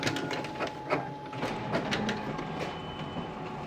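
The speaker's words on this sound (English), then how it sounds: "the sound of our clanky copier" Clanky office copier running nearby, a steady mechanical whir with irregular clicks and clunks repeating throughout, fairly quiet and with no one talking.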